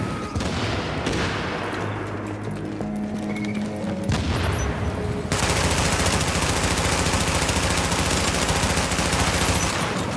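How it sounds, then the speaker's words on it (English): Machine gun fire in the video game Tom Clancy's The Division, rapid sustained bursts that merge into a dense, loud, continuous rattle with booming impacts, heavy throughout. "What's your badass machine gun? G36?"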